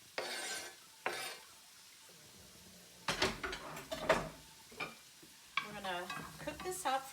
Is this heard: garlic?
yes